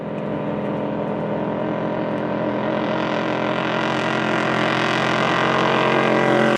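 A loud, steady roar from a vintage racing motorboat's 8000 cc BPM engine on the Po river, a rich, buzzing drone that builds slightly over several seconds at high revs.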